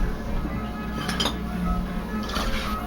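A spatula clinks against a heat-proof bowl set over a double boiler of melting chocolate, giving a few light taps and scrapes at a moderate distance, with no talking.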